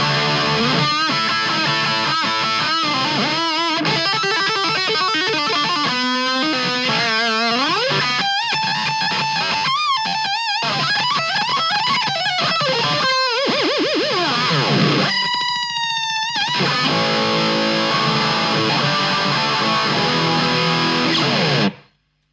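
Electric guitar through overdrive with a noise gate, dialed for a classic rock style tone: loud distorted riffs, bends and sustained notes with abrupt gated silences between phrases, cutting off sharply at the end.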